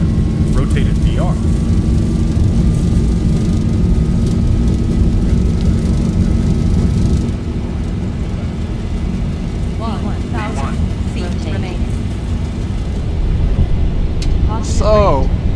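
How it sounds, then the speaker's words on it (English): Simulated Boeing 737-800 jet engines at takeoff thrust in X-Plane 12, a steady loud low roar filling the whole span with a slight drop midway, while people talk over it. "Advanced throttle to takeoff."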